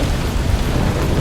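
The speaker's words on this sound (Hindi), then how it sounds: "सारी रात बारिश छम छम बरसती है" Cartoon rain falls through the night, a loud, steady hiss with a low rumble under it, continuous and without voices.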